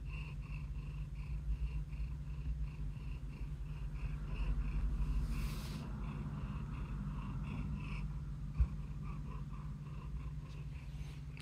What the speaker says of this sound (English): I don't know if you could hear that purring